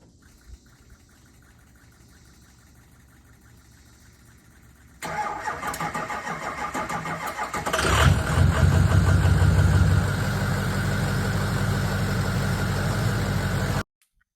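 A Ford 6.0 Power Stroke diesel with a worn, dragging starter cranks after a quiet stretch, then catches and settles into a loud, steady diesel idle close by that runs until it cuts off.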